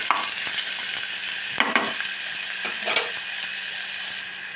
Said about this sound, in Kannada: ಸ್ವಲ್ಪ ಈರುಳ್ಳಿ ಫ್ರೈ ಮಾಡಿರಿ ಇದನ್ನು